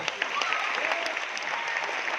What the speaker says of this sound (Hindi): अरे इनके लिए ताली होनी चाहिए यार